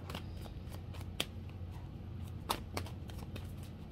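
A tarot oracle card deck being shuffled by hand, with a steady papery riffle and several sharper card snaps, close and fairly quiet, with no voices.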